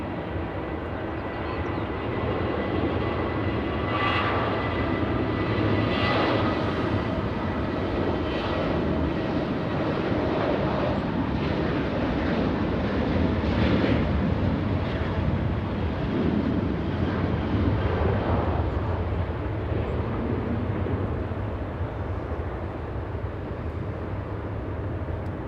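Steady, continuous roar of airliner jet engines at LAX as a plane departs for Austin, Texas, a broad rumbling drone heard from a distance that holds evenly throughout with slight swells.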